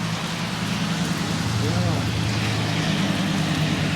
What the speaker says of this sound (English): now it's starting to rain hard